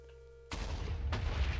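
Two sharp, loud booms burst out in Minecraft near the bottom of a Nether fortress farm, about half a second apart, each dropping into a rumbling decay after a quiet, faintly humming opening.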